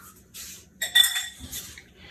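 A metal spoon clinks and scrapes against a cake pan while apple cake batter is spread, giving a few close, bright taps and rattles in quick succession.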